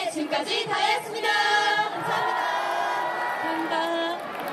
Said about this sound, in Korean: 수고하신 우리 다이아 분들을 위해서 큰 박수 한 번 더 부탁드리겠습니다